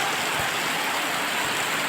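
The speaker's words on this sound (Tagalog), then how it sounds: "alakas talaga ng ulan" Heavy Holy Week rain pours down steadily outdoors in Zamboanga del Sur, a dense, constant hiss of drops hitting surfaces with no voices.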